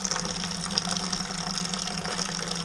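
Hot hop water pouring from a kettle into a beer fermenter during homebrewing, a steady splashing gush with a faint pump-like hum beneath, continuous and moderately close.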